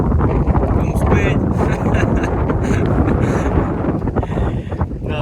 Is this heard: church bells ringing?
no